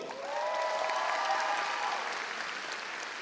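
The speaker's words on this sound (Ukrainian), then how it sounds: "Рома, Рома, оплески Ромі!" Audience applause at a concert auction, a dense, steady wash of many hands clapping that rises quickly and holds at a fairly loud level throughout, with a faint tonal murmur underneath and no clear speech.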